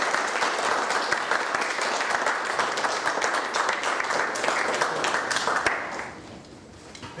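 An audience applauds after an academic lecture at an institute for advanced studies, sustained dense clapping that fades toward the end.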